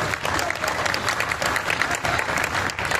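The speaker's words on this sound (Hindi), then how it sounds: "मेरा अनुज जरा दोनों हाथ उठाकर उसके सम्मान में तालियां बजा दें।" Loud, dense applause from the audience at an All-India poetry gathering, a continuous wash of many hands clapping close up for the whole three seconds with no break.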